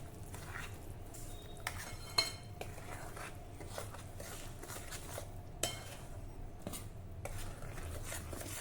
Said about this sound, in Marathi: वेलची पूड घालू आणि हे छान मिक्स करूया.